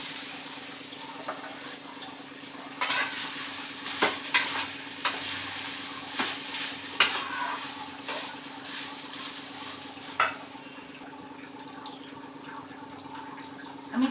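Grated coconut being stirred into hot flour in a pan on a gas stove while making pithe puli, with a steady soft sizzle and repeated scraping, tapping strokes of the spoon against the pan.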